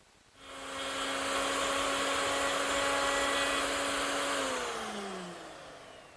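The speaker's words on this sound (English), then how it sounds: "Here I've installed a 1/2-inch cove bit in my router table, and I've machined a finger pull on the bottom inside edge of the mirror." A router table fitted with a 1/2-inch cove bit cutting a finger pull into a wooden mirror frame's bottom inside edge: a loud, steady high whine that holds for several seconds, then drops in pitch as the bit spins down.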